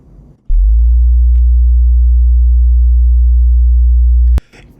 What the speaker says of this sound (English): Now I'm gonna play 60 hertz.